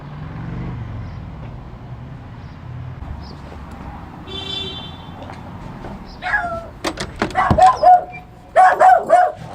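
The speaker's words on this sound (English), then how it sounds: "Hi, dog. How you doing today? Remember me? Guard dog." A guard dog barks in a run of loud, close barks near the end, after several seconds of quiet background rumble and faint noises.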